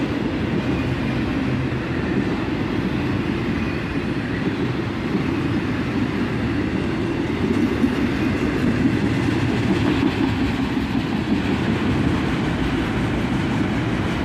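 An autorack freight train rolls steadily past at dusk, with loud continuous rumbling and faint wheel clatter that never lets up.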